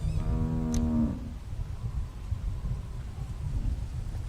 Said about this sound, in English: That's what the cow says.